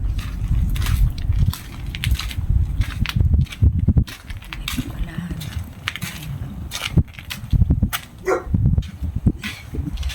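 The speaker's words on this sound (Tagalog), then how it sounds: "may aso." A dog barks several times outdoors in snow, short sharp yaps scattered among crunching footsteps in snow, with a voice speaking now and then.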